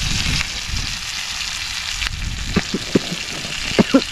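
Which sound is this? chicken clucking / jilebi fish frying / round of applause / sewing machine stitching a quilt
jilebi fish frying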